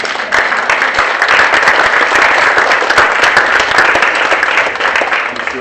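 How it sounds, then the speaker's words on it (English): Steady, full applause from an audience at a low-tech innovation prize-giving ceremony honoring award recipients, sustained dense clapping without talk. "give yourselves a round of applause"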